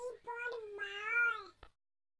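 A single cat meow, drawn out and rising then falling over about a second and a half, ends with a short click before silence.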